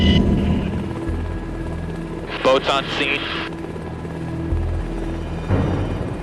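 A Coast Guard helicopter's rotor drones steadily and close throughout in Kodiak, Alaska, while a voice speaks briefly over radio-like chatter in the middle.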